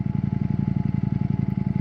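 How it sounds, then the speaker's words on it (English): A Ducati Panigale motorcycle exhaust gives a deep, loud, close thudding in a steady rapid pulse, with no voices over it. "the thudding, the lovely deep thudding that's coming from the exhaust"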